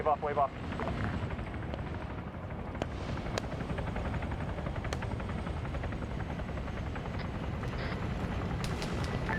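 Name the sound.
helicopter rotor in a video game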